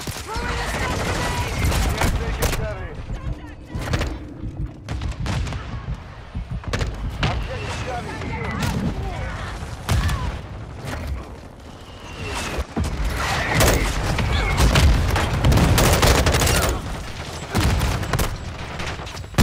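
Mortar strike explosions in Call of Duty: Modern Warfare II on the Shipment map land as repeated loud, sharp impacts amid constant gunfire across the whole stretch, with a voice talking over parts of it.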